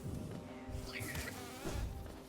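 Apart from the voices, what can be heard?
bees buzzing in Hollow Knight video game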